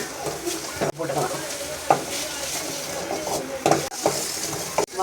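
Drumstick leaves (murungai keerai) with coconut sauté in a hot pan for chutney, a steady loud sizzle broken by scraping stirs and a few sharp clinks of the spoon against the pan.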